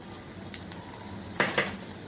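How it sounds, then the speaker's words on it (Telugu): Peanuts frying in hot oil in a pan: a steady low sizzle runs throughout, with two brief louder clinks or stirring scrapes near the end, close and fairly quiet. "పల్లీలు వేయించుకుందామండి"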